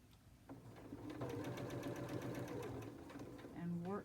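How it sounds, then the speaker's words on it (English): A sewing machine runs steadily in a short burst, back stitching through quilting fabric on a charm pack square bow project, with a soft whirring motor and rapid needle thumps up close, then a brief change at the end. "that's where I'm going to back stitch again"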